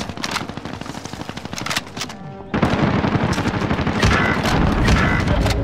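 Dense video-game gunfire, rapid automatic bursts and single shots crackling almost nonstop, loud and close, with a brief lull before an even heavier barrage.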